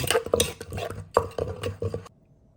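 A spoon scrapes and clinks repeatedly against a pot while a sauce of palm sugar, fish sauce and fresh lime is stirred, the close, busy stirring running steadily before stopping abruptly near the end.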